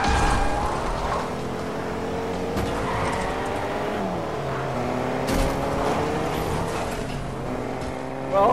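Car driving and drifting in Fortnite, a loud continuous engine drone with shifting revs and tire skid noise, steady throughout with rising and falling pitch.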